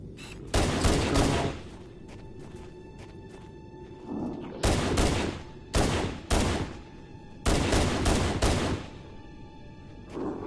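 Video game gunfire from Halo CE Anniversary, loud bursts of several rapid shots in three clusters, with quieter gaps and a faint background hum between them; no talking.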